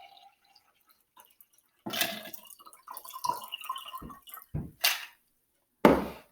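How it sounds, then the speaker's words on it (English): Ice water is poured out of a jar while the ice is held back and drained, giving irregular splashing and gurgling pours broken by pauses and ending in a louder final splash, close by, with no talking. "I'm going to pour this out and drain the ice so that I just get the cold water"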